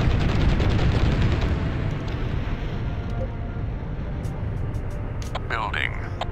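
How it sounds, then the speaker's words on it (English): Mortars and blast cannons fire in a real-time strategy combat video game, a continuous heavy rumble of explosions and booms with scattered bursts, loud throughout, with game voice announcements over it near the end. "The combination of mortars and blast cannons are doing the trick."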